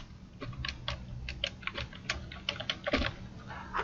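Typing a name on a computer keyboard in a design program: a steady run of light, close key clicks with uneven rhythm and occasional heavier taps, no voices.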